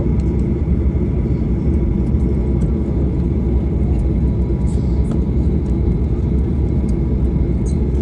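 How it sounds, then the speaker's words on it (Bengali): A passenger airplane flying from Dhaka to Cox's Bazar takes off, and a loud, constant engine roar and rumble fill the cabin throughout, with no break. "এই যে আমাদের বিমান উড়ে যাচ্ছে এখনই আকাশে উড়ে যাব"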